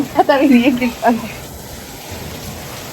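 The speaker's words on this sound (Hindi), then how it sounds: "बारिश हो रही है बहुत तगड़ी वाली एकदम" Heavy rain pours down in a steady, close hiss; a voice speaks briefly at the start, then the downpour carries on alone.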